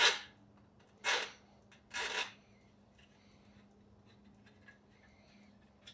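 A flat file is drawn gently along the sharp edge of an aluminium tail rib for a Zenith CH 650, making three short rasping strokes close up, each under a second, with quiet gaps between.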